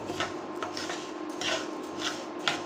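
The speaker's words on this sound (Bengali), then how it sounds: "অনবরত নেড়ে চেড়ে ডাল ভেজে নেব" A spoon scrapes and rubs repeatedly against a pan as moong dal is stirred and dry-roasted, giving soft rhythmic scraping strokes close by, with no talking.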